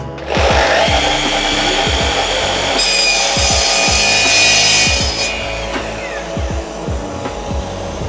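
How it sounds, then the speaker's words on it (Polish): A power saw spins up to a loud whine and cuts through a VOX Querra Supra laminate floor panel, a harsh grinding buzz with rhythmic thumps, then winds down. "laser nam wyznacza punkt cięcia, rozpędzamy piłę."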